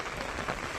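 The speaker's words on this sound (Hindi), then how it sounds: "हम अभी आधे रास्ते में आए थे कि भयंकर वाली बारिश आ गई है।" Heavy rain falls during a walk on a hill-country road, a dense, even hiss of drops close by with no voices over it.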